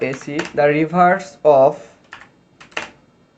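Someone speaks first, then a computer keyboard gives a few light, scattered keystroke clicks while typing C program code.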